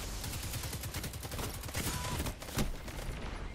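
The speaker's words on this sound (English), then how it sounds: "Two of them shooting me at the same time." Rapid gunfire from the video game Destiny during a player-versus-player match, heard as dense, continuous bursts of shots overlapping one another, loud and sustained with a heavier thump near the end.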